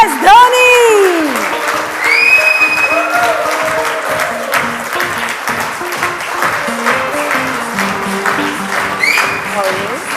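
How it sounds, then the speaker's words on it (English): Audience applause and cheering greet M S Dhoni at an interview event, loud at first and then continuing under a presenter's voice and background music for about ten seconds. "So please welcome him with a huge round of applause"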